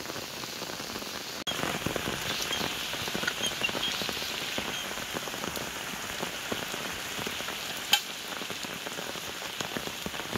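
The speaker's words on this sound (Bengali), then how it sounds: "একেবারে মুষলধারে বৃষ্টি শুরু হয়ে গেছে" Heavy monsoon downpour near a rural pond and garden, a dense, steady roar of rain drumming on surfaces with a couple of sharper drips standing out.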